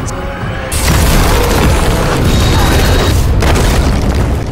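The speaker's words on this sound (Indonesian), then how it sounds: "dengan cepat Lu Sheng menggagalkan upayanya itu dengan membuat sebuah ledakan besar." A sudden, powerful explosive boom in a film bursts in and swells into a loud, sustained roaring rumble that fills the rest of the moment.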